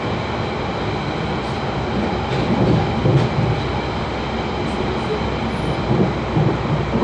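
Steady rumbling of a London Underground train in motion near Barkingside station, a continuous low roar with faint rhythmic clatter and occasional higher squeaks, close and constant throughout.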